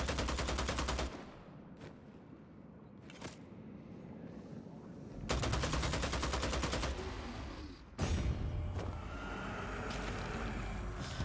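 Gunfire in Vampire: The Masquerade – Bloodhunt: several loud bursts of rapid automatic shots separated by quieter gaps, close and dominant.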